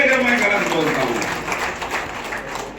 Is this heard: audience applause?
yes